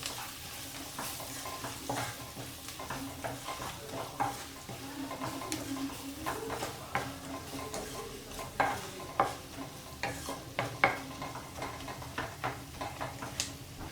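Capsicum curry being stirred in a pan after coriander powder is mixed in, with scraping spoon strokes and clinks over a low frying sizzle, steady throughout with a few sharper knocks near the end.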